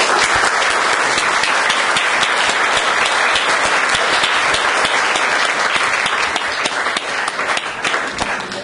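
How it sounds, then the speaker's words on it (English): A loud, close round of applause from a full audience at a question session: thick, continuous clapping that holds strong for several seconds before easing slightly. "we could just all give a round of applause while everybody's still here"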